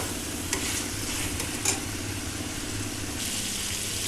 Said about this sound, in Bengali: এখন ভেজে রাখা ফুলকপিটা দিয়ে দিব। কিছুক্ষণ নাড়াচাড়া করবো।